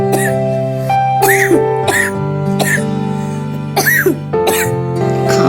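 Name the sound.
coughing sound effect in narrated story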